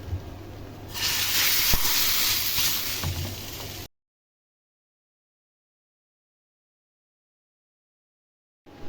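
Hot oil tempering (baghar) poured into a pot of haleem gives a loud, bright hissing sizzle that swells for about three seconds, then cuts off into silence.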